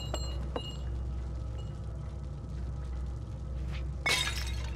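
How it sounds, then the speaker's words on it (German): Objects breaking and shattering in the puzzle-platformer Little Nightmares: a sharp, bright crash near the end rises above a steady low ambient rumble, with faint knocks earlier. "Ich möchte gerne, dass die Sachen zerbrechen."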